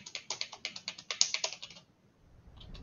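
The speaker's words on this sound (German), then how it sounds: "Man hört voll meine Tasten klicken" Computer keyboard keys clatter in quick, rhythmic typing bursts, close and crisp, about a dozen sharp clicks in a row before stopping, then near silence with a faint rustle.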